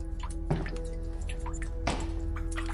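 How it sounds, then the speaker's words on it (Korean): Water dripping, a few distinct drops falling at an uneven pace over a low steady hum, each drop a short bright plop with a hollow splash. "그 배경에는 항상 물방울 떨어지는 소리가 있었죠."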